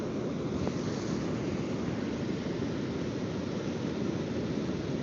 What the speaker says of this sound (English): So as a surfer, this wind's really interesting